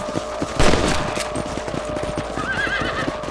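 A horse in Red Dead Redemption whinnies loudly near the start, then hooves clip-clop in a steady rhythm under a constant background wash, close and fairly loud, with no talking.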